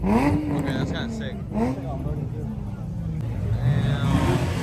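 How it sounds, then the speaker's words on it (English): A small drift car at a Los Angeles street car meet, its engine revving and rising in pitch in repeated loud bursts over a rumbling crowd, with people talking and exclaiming nearby. "Little drift car."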